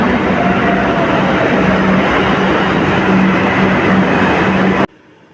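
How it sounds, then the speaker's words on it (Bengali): A metro train runs at a station platform with a loud, steady rumble and faint hum, continuing without a break until it cuts off abruptly near the end. "ওই দিকের প্ল্যাটফর্মে আরও একটা মেট্রো চলে এসেছে"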